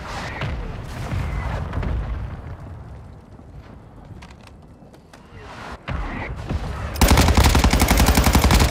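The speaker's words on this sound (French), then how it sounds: "Frappe de mortier hostile imminente." An incoming hostile mortar strike in Call of Duty: Modern Warfare II: scattered sharp blasts and rumbling impacts, then a loud sustained roar of rapid detonations at the end.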